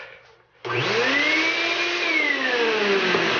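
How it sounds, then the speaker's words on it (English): A vacuum cleaner switches on abruptly and runs loudly and steadily, its motor whine rising and falling slightly in pitch, close by. "The vacuum cleaner."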